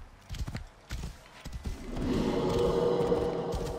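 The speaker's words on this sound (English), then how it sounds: "Come here. Stupid steed." Horse hooves clip-clopping in Assassin's Creed Origins, a few loud thudding steps followed by a steadier rumbling stretch that may include a neigh, close and fairly loud with no talk over it.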